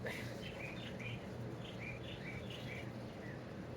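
Small birds chirp in repeated short, high calls across a quiet outdoor scene in a tropical, palm-lined setting, moderately distant, over a steady low background hum.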